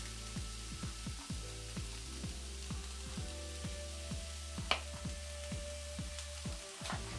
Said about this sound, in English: So I'm gonna go ahead and add the beef.